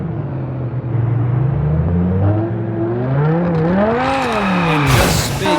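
Car drifting in the mobile game Car Parking Multiplayer, a steady engine drone that rises and falls in pitch as the revs climb, ending in a brief bright tire screech.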